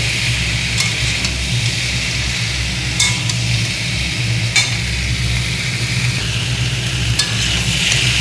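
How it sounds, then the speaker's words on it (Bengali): Jackfruit and potato chunks sizzle steadily in a hot pan with tomato and ginger, a constant close frying hiss broken by occasional scrapes and clinks of a spatula stirring. "এবার আমি এঁচোড়গুলোকে দিয়ে দেবো। এবারে আবারও ভালো করে কষতে হবে।"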